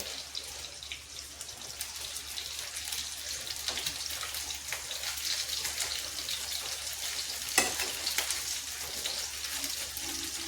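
Food deep-frying in hot oil gives a continuous bubbling crackle with scattered sharp pops and one louder snap near the end, steady and close.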